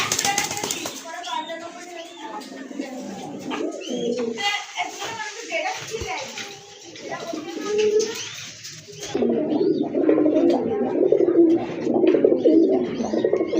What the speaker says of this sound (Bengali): আরেক জোড়া কবুতর দেখতে পাচ্ছেন খুবই চমৎকার কিন্তু দেখার মতো কবুতর গড়রা কবুতর